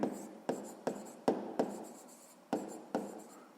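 Pen or pencil writing on paper during a sixth-grade maths exercise, a series of short close scratchy strokes with quiet gaps between them, no voices.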